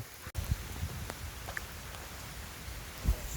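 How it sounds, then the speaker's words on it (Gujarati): Rain falling on the hillside at Girnar near Junagadh, a soft, steady patter with occasional louder drops and faint knocks close by, fairly quiet overall and with no talking. "હાલો વરસાદ આવી ગયો"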